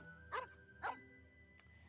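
A puppy in the Genshin Impact game gives two quick, sharp barks a moment apart, followed by a brief higher yip, close and fairly quiet over faint background music.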